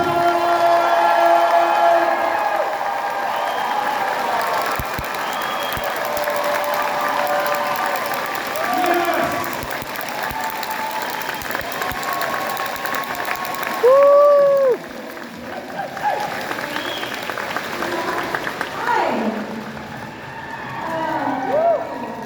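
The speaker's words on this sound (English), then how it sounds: "Fan Expo Denver, make some noise, show some love." A convention crowd at a fan expo panel in Denver applauds and cheers steadily, with scattered whoops and voices talking over the clapping throughout.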